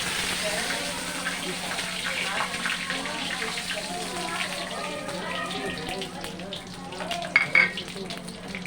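Steady crackling sizzle of curry leaves frying in hot oil with asafoetida for kadhi, continuous and close, with a few sharper pops near the end.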